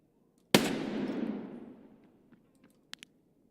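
A single sharp gunshot from a gun fired indoors in a video game, starting loud and close and then ringing out in a long decaying echo, followed by a couple of faint clicks.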